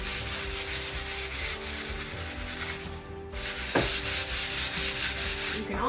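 Sandpaper on a block rubs steadily back and forth across wood veneer on a dining table top, a close, continuous scratchy rasp with a brief pause midway before the strokes resume.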